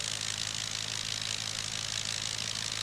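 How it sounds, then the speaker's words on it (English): An 80 horsepower Le Rhône rotary engine on a World War I airplane catches on the first pull and runs at a steady, loud drone with a low rumble, heard alone at close range at an air show. "that airplane starts on the first pull, which is nothing short of a minor miracle"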